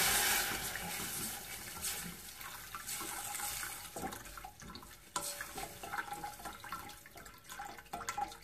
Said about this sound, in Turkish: Şöyle suyunu yavaş yavaş ekliyorum.